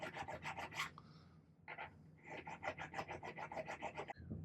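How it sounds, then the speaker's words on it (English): A jeweler's file rasps against a silver slot ring braced on a table, making quick, regular back-and-forth strokes in short bursts that sound close and crisp, with no talking. "I'm going to be spending a lot of time with my jeweler's file"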